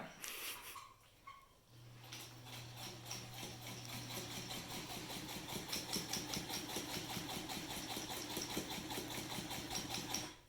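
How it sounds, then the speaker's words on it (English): A sewing machine stitches along the curved edge of fabric face mask panels, its needle chattering in a steady fast rhythm with a low motor hum, close and fairly quiet, starting after a short pause. "we're going to sew along the curved edge with a 1/4 inch allowance on the outside"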